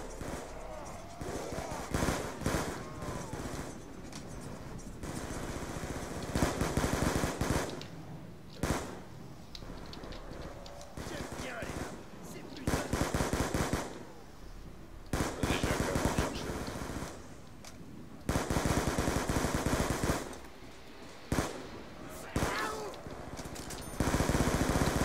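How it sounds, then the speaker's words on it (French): Bursts of Kalashnikov rifle gunfire in a zombie video game, rapid automatic volleys coming in repeated loud stretches separated by short pauses, with players talking over the action. "C'est de la calache."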